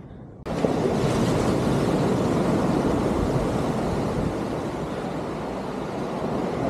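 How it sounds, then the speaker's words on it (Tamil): Strong wind rushes past the microphone during an outdoor run in Cochin, a loud continuous roar that starts abruptly after a brief quiet moment and holds steady throughout. "நல்லா இருக்குது, அருமையாக இருக்குது காற்று"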